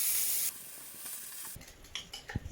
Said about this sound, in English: then we're just going to sizzle up our curry paste in the juice that's left over